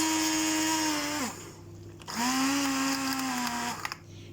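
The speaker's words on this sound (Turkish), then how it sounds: "pürüzsüz bir kıvam alsın diye blenderdan geçiriyoruz" A blender motor whirs loudly as it purees cooked plums, cutting out partway through, then starting up again and running steadily before stopping.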